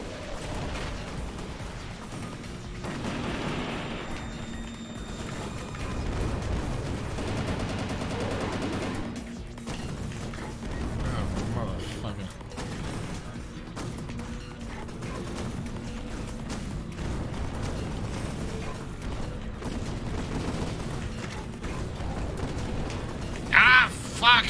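Gunfire in the first-person shooter INCISION, rapid bursts of shots and impacts running through a dense, noisy game mix over about twenty-five seconds, with a brief louder double hit near the end.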